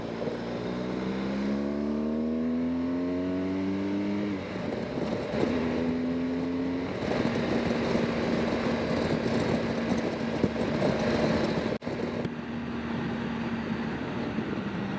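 A nearby truck engine revs up in rising harmonic sweeps, then settles into a loud, steady drone that runs on beside a motorcycle being washed on a cold day.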